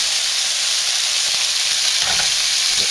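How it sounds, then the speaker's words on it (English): Beef, pork and seafood frying together in a pan as part of a Southwestern-style meal, a loud, dense, continuous sizzle with faint stirring knocks underneath and no talking. "make sure you get all this meat in here. Cook a little bit at a time."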